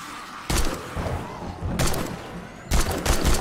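Three sharp bursts of gunfire in the video game 7 Days to Die cut through a constant noisy background, spaced about a second apart, with no voices.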